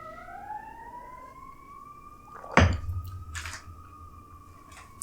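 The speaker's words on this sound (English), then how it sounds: "There's a very loud siren outside right now." A distant siren wails steadily, rising and then holding a long tone, with a brief thump and clatter partway through.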